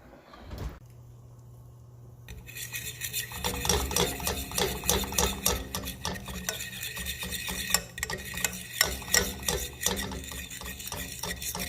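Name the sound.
stirring gravy in a pan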